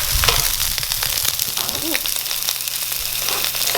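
Mussels and garlic fry in a pan with a steady, close sizzle and crackle, plus a brief metallic scrape of stirring partway through.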